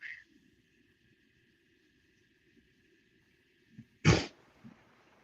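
After a quiet stretch with a faint high hum, one sharp sneeze bursts out nearby, followed by a small sniff.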